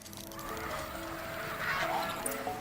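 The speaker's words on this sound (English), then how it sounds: "And a lot of geese." Geese honking in the video game Horizon Zero Dawn, a few scattered nasal calls at moderate distance over a faint ambient game background.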